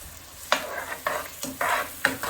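Mixed colorful vegetables and spinach sauté in a pan with steady close sizzling, broken by four rhythmic stirring scrapes spaced about half a second apart.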